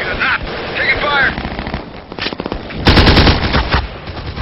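Rapid machine gun fire in a video game, loud close rattling bursts with a heavier volley near the end, mixed with game noise and brief voices.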